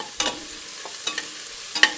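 A spatula stirs onions frying with salt in a pan until golden brown, producing three distinct scraping strokes over a soft, steady sizzle, close by and with no talking.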